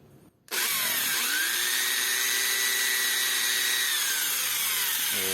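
An angle grinder spins up and bites into a car's lower control arm, a loud, close, sustained metal-cutting whine with shifting pitch that holds for several seconds, then eases off at the end.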